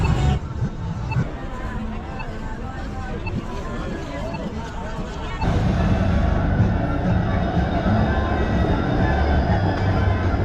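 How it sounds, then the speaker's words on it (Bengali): A tram runs along a busy Toronto street, a loud low rumble and grinding roll that swells midway, mixed with street noise and the babble of passing crowds. "অনবরত চলছে ট্রাম"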